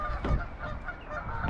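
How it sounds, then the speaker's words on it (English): Geese honking at Newport Wetlands on the Welsh coast near Caldicot, a few harsh calls mixed with flock chatter at moderate distance, fairly faint and outdoors. "Actually they're not Canadian geese, they're just normal geese"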